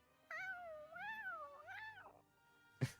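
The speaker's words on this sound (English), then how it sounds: "For a kitty, meow means they are much happier than" A cat meows in Genshin Impact, a single drawn-out, wavering meow with rising and falling pitch, fairly clear and close, followed by a brief soft thump.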